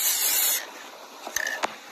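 Aerosol spray paint can hissing in one steady burst for about half a second, followed by quiet handling clicks and small knocks.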